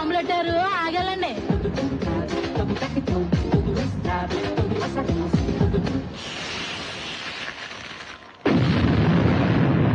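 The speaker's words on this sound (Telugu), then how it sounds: "కొండలకు బాంబులు పెట్టారు" Movie-style bomb blasts set off in the hills during a Telugu film fight scene, with loud booming bursts layered over music and clattering effects, a heavy rumbling eruption bursting in near the end.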